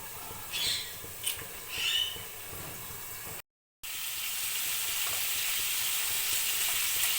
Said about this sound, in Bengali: এবার বন্ধুরা আমি কড়াইতে সর্ষের তেল দিয়ে কটা রসুন ভেজে নিলাম।